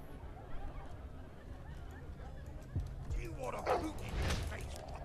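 A dog in a video game gets kicked, giving a few yips and whimpering barks partway through, over a low busy game backdrop with someone talking at the same time.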